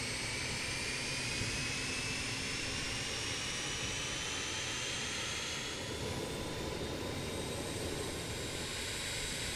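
A BAE 146 jet engine spools up during start in Microsoft Flight Simulator, a steady broadband roar and whine holding at a constant moderate level with a rising tone, no voices present.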